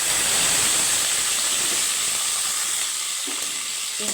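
Boiled taro stolons go into hot oil with fried greens and five-spice tempering, giving a loud, continuous hissing sizzle close up that fades slightly toward the end.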